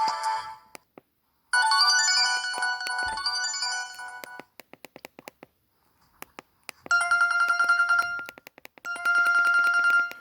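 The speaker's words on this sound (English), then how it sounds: "These were the same ringtones as I downloaded in my Galaxy A10e last year." Samsung GT-E1272 ringtones play from a flip phone in several bursts, bright electronic melodies with repeated beeping notes, separated by short silences and fairly loud up close.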